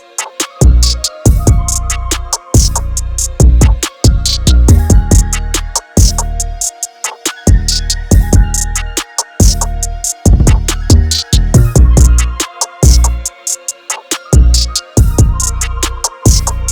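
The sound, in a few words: full trap beat made in FL Studio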